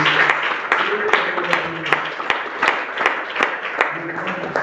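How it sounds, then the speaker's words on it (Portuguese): Rhythmic clapping from a church congregation over a preacher's voice, with sharp regular hand claps standing out. "Agora está ouvindo a salva de palmas para Jesus."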